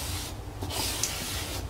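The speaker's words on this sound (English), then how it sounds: "I apply 2 beads of Cove base adhesive, 1 inch from each edge" Cove base adhesive squeezed out in beads onto molding during bathroom trim work, a soft steady hissing spray-like rush lasting under two seconds, close and alone.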